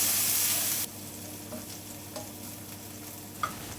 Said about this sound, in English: Just fry them about 30 seconds.